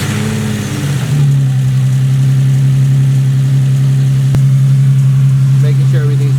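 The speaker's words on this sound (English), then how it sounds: "It's a cold start, but wow, that sounds like much more beefier." A Nissan 370Z with its VQ V6 fires up from a cold start and settles into a loud, steady idle. The engine note is a deep, continuous drone with a brief rise in revs right at startup.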